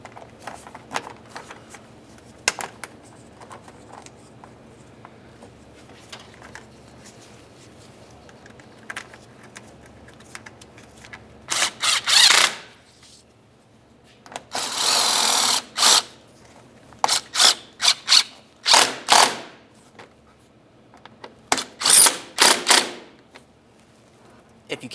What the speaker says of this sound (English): start each of them in, and then snug them up.